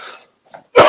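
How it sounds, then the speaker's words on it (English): A single sharp cough bursts out near the end after a brief throat-clearing sound and a moment of quiet. "Hold on, I got a cough."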